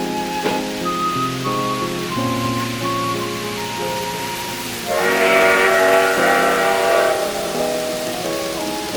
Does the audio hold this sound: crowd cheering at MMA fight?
no